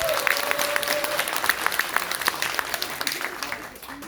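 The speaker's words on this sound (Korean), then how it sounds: "박수 한번 쳐주세요." Audience applauds at a Korean political party founding event, a dense steady patter of many hands with scattered sharp claps, moderately loud throughout and easing slightly toward the end, with a brief tonal voice-like line early on.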